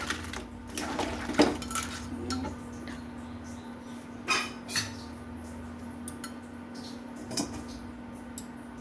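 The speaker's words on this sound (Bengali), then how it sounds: "এবার আমি হালকা হাতে নাড়ি চাড়িয়ে নেব।" A spoon clinks and scrapes against a pan while crab curry with added water is stirred gently, giving scattered metallic taps at irregular intervals over a low, steady background hum.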